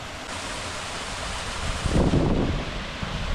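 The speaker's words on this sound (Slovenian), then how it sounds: "Sva že pri naslednjem slapu" Canyon waterfall roaring as a dense, steady wash of falling water, close and loud, swelling slightly midway through.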